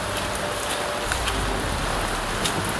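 Heavy rain pours down in a dense, unbroken hiss, loud and steady throughout, with no distinct drops or voices standing out.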